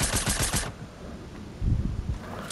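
Fortnite gunfire: a quick burst of rapid shots up front, then a quieter gap, then a second short burst of shots, fairly near with no speech.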